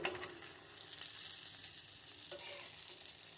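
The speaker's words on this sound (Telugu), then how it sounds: "అండ్ సిమ్లో పెట్టి ఫ్రై చేయండి" Potato and sweet corn tikkis shallow-fry on low heat in a pan, making a quiet continuous sizzle with a brief louder burst partway through, with no talking.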